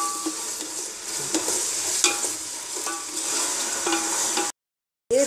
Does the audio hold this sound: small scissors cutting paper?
no